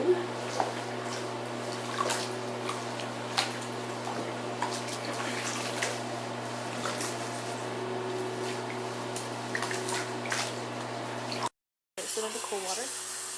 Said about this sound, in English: Mix it under cool water.